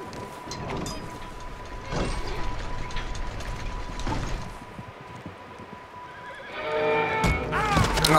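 Horses neigh and whinny repeatedly over ambient sounds in Red Dead Redemption 2, with a loud, shrill whinny close by near the end.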